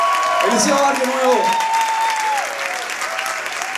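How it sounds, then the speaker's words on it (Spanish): Steady audience applause at a live concert of Latin American folk music, a dense wash of clapping lasting several seconds while a sustained tone lingers and fades underneath. "Fuerte aplauso para él."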